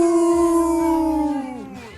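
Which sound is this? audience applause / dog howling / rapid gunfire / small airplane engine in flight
dog howling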